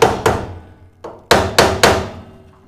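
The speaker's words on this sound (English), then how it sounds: "Grab a hammer before you do anything and give it a couple taps in different directions to loosen any corrosion or rust or anything." Hammer taps on the pump connections of a gas boiler, knocking loose corrosion: six sharp metallic knocks, two quick ones, a lighter one, then three evenly spaced, close and loud with no talk.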